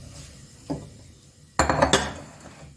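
A mixing bowl and dishes are handled in a home kitchen while banana bread is being prepared, giving a soft knock and then a louder cluster of clinks and clatters close by, with no talking.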